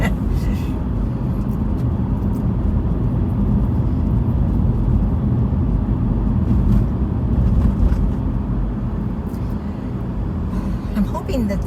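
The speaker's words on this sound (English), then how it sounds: "Awful lot of cars coming down the hill." Busy road with many cars and buses coming down a hill, heard as a constant broad traffic roar from inside a moving vehicle, steady and fairly loud.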